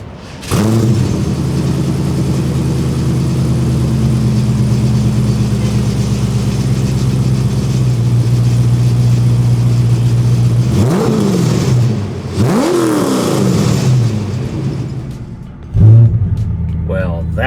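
Factory 5 GTM with an LS1 V8 starting up from inside the car, then a loud, sustained rumbling idle broken by several sharp revs, heard close with no talk over it.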